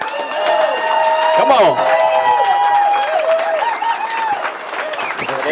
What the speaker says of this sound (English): So get on your feet and give a round of applause